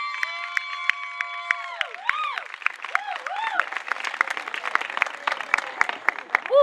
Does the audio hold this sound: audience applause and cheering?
yes